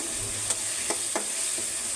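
Green chili, garlic and onion fry in hot oil, a continuous bright hissing sizzle with a few soft crackles, heard close up and steady with no voices.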